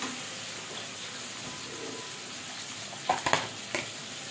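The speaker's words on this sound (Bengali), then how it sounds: "পেঁয়াজটা একটু ভাজা ভাজা করে নেবো ডিমের সাথে" Eggs and chopped onion sizzle steadily in a pan, a soft continuous frying hiss, with a few sharp clinks of stirring near the end.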